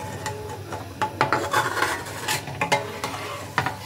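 Milk being stirred in a wok while making roshopuli pithe, with one litre of milk in the pan; steady scraping and swishing strokes repeat close by, with a faint simmering hiss underneath and no talk.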